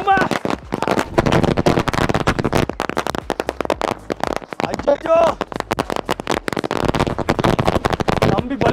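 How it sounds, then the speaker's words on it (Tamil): Diwali firecrackers going off in rapid, loud crackling bursts, a dense barrage of sharp pops and bangs with a brief lull midway, while people shout and talk over the noise. "போடுறா தம்பி வெடிய."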